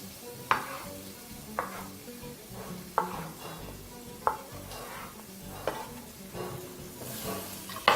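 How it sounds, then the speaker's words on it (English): Steady sizzling and bubbling of diced tomatoes frying in a pot, punctuated by regular clinks and scrapes of a utensil stirring. "Just allow the tomatoes to just slightly break as you continue frying."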